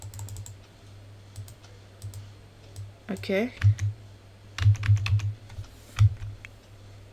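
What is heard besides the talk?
typing on a computer keyboard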